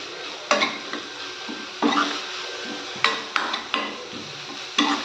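Adai dosa ingredients with chopped greens being mixed in a pan, a spoon knocking and scraping the metal in irregular strokes over a soft sizzle, close by and with no talk.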